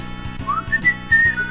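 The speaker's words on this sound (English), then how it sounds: "You were whistling after you had your go" A man whistles a short, wavering tune during a game of Scrabble; the melody is clear and close, with soft tapping and thumps from the table underneath.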